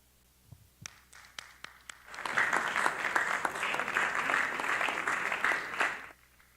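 Audience applause at a Nigerian employers' association annual general meeting: a few scattered claps, then a sustained burst of clapping from the room lasting about four seconds before cutting off.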